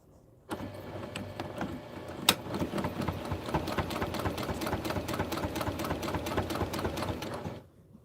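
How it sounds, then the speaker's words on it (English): An electric sewing machine runs steadily as it stitches all the way across fabric, a fast, even mechanical chatter starting abruptly, holding for about seven seconds with one sharp clack partway, then stopping. "So now I'm going to sew all the way across."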